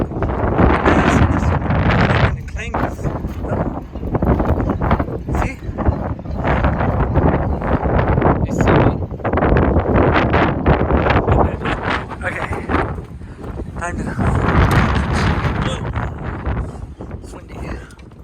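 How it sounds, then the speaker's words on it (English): Strong gusty wind buffets the microphone in a constant roar, swelling and easing, with a voice speaking over it. "It's really windy."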